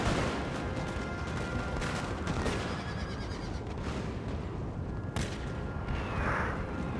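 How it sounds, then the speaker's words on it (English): Musket volleys in Napoleon: Total War, an Austrian battle, crackle as sustained gunfire with scattered sharp reports and booms over a dense, continuous battlefield din. "I think we should be able to hold them off by gunfire."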